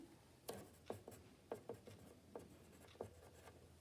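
Pen or pencil strokes on a technical drawing for a clock design in a school product-design class, heard as a series of short, quiet scratches spaced irregularly, with no talking.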